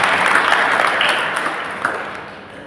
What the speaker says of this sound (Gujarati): તો ફરી એક વખત સંપૂર્ણ ગ્રુપને તાળીઓના ગડગડાટથી આપણે વધાર્યા.